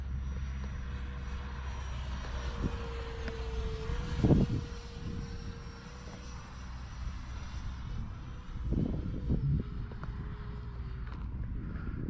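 A Freewing F-16 70mm electric ducted-fan RC jet passes with its landing gear down, a steady fan whine rising and falling as it flies by, with a few bumps and thumps from handling nearby.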